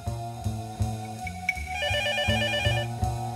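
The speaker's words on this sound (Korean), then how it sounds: "지난 7월 초 이 업체에 한 통의 전화가 걸려왔습니다." A telephone at a Seoul computer specialist firm rings with an incoming call, repeated electronic bell trills sounding clearly and alone in a steady pulsing pattern.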